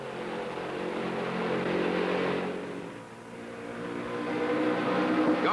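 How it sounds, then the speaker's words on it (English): Late-1960s NASCAR stock cars, a Plymouth and a number 98 Ford among them, roar through turns 3 and 4 at Darlington during the 1968 Southern 500, a loud continuous engine drone that swells, dips briefly and builds again. "Richard Petty's Plymouth shows Leroy Yarborough the groove through turn 3 and 4"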